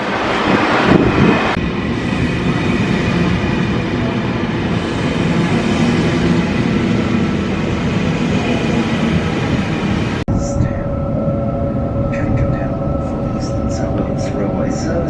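A train passing nonstop through a Sydney station, a loud continuous rumble and roar of wheels on rail, then a cut to a quieter rail interior with high squeals and a station announcement.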